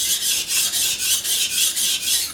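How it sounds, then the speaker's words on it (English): Steel knife blade stroked along a fine-grit sharpening stone, a steady rhythmic rasp in about eight even back-and-forth passes, close and clear with no voices. "So this is a finer stone. It's gonna give us a finer sharpness. Finer detail, smoother sharpening."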